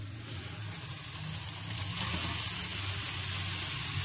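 Chopped vegetables, cauliflower first, hit a hot pan for a restaurant-style mixed vegetable sabzi, giving a steady close sizzle that builds slightly and carries a broad, even hiss without pause, no talking.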